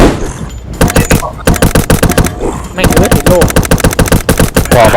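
Rapid gunfire in the zombie shooter video game Zumbi Blocks 2, loud close bursts of automatic shots in dense volleys separated by short pauses, with game sounds around them.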